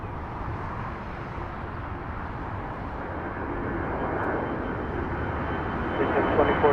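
An airplane at LAX roars steadily in the middle distance during takeoff, a broad rumbling engine drone that slowly swells louder toward the end, with no clear talk over it.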